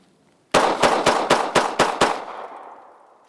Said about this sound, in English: All right, so same thing on the trunk. Put a few rounds through it.